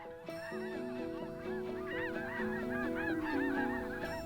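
A flock of snow geese in Alberta honks continuously, many overlapping nasal calls close by and loud, with no voices.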